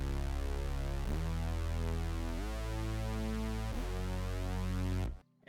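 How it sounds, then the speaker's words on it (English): Two stacked mid-range synth bass layers in a trap beat play sustained notes that change pitch roughly every second and a quarter, loud and steady with no voices, then cut off abruptly near the end. "all I added was just like 2 layers of basses, which ends up just being this mid-frequency bass."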